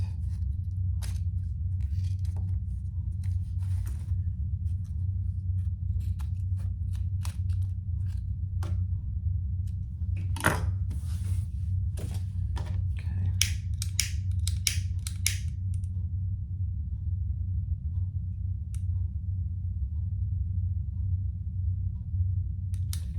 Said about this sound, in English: now we can cut off our excess zipper